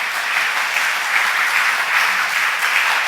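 Steady, dense applause from a large church congregation at a Sunday worship service, sustained evenly for the full three seconds with no voices breaking through.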